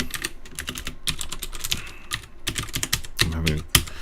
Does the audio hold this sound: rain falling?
no